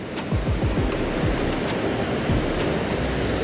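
Raging river current rushing where walleye and saugeye are fished, a loud, steady broadband roar of water with no pauses and no talk.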